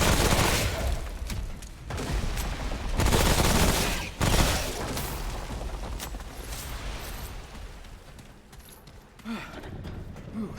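Gunfire in the game Remnant: From The Ashes: loud sustained bursts of shots and blasts, some brief pauses between heavy volleys, dense and close throughout.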